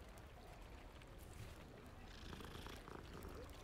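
A cat purring while being petted in Hogwarts Legacy, a soft continuous rumbling purr held steady and close but faint, no talking.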